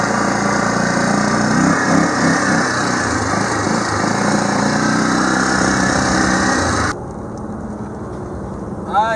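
A Yamaha Bruin 300 four-wheeler engine idles close by with a steady buzzing putter for about seven seconds, then drops away sharply, leaving faint background noise and a brief chirp at the end.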